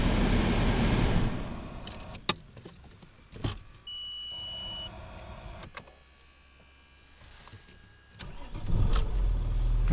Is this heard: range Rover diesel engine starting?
yes